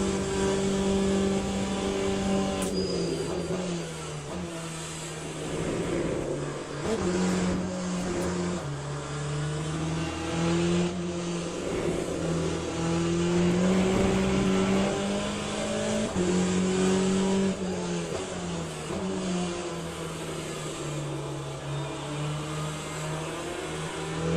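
Hypercars racing in the Le Mans Ultimate video game, engines howling continuously with rising and falling revs through gear changes, loud and close from the cockpit.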